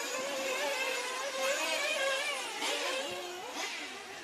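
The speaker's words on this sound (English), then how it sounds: "You hear an engine running badly underneath him" A buzzing nitro engine of a 1/8th scale off-road RC car at a racing event, running roughly with wavering pitch and uneven revs, steady and fairly distant.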